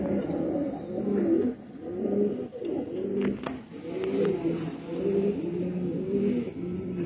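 Pure-bred patti low-flyer pigeons cooing steadily in a loft, several birds overlapping in a rolling, throaty rhythm at close range, with faint background noise and no talk.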